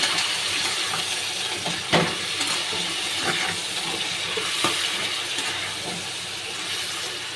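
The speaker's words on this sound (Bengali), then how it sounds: "এবার আমি চিকেনগুলো দিয়ে দেবো, ভালো করে একটু ভেজে নেব" Chicken pieces sizzle in a pan with lightly browned onions, giving a constant close hiss and crackle with a few sharper pops and no talking.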